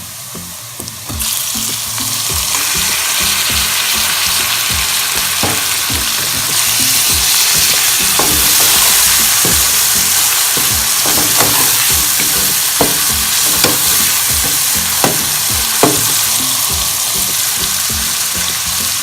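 Ground garlic and ginger paste frying on a high flame for lentil daal mash, a loud steady sizzle with intermittent stirring scrapes and clicks throughout, no talking.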